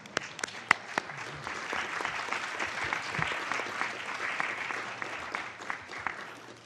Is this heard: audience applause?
yes